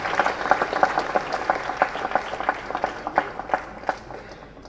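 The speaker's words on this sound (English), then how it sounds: "That's an applause that's coming to him decades later" An audience breaks into applause, a sustained burst of many hands clapping with distinct sharp claps standing out, fairly close and gradually easing off, with no speech over it.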